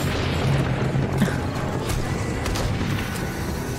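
An automated turret in the 7 Days to Die video game fires its ammunition in a dense, continuous rattle of booming mechanical shots, loud and close, with no voices over it.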